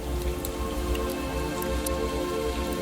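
Steady, calming rain falls continuously on surfaces, with a dense patter of drops and scattered light ticks at an even level throughout, and no voices.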